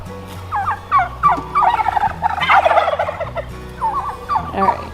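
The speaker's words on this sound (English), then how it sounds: "Turkeys doing their turkey thing." Several turkeys gobble in repeated bursts, close by and fairly loud, with short gaps between the rattling calls.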